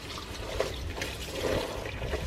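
Soapy laundry water from washing whites is poured out of a basin, a soft continuous splashing and trickling stream with gurgling bursts, fairly close and unaccompanied by talk.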